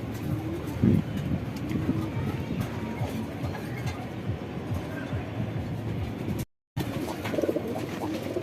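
Shahjahanpuri pigeons coo softly in a low, steady murmur with a brief louder flutter near the start, faint background noise throughout and no clear talking.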